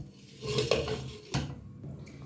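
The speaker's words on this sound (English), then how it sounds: "I'm going to cover it for 3 minutes to simmer and then it will be done." A lid set onto a pot of simmering beans on the stove, giving a couple of close metallic clanks and scrapes of metal on metal, with no talking.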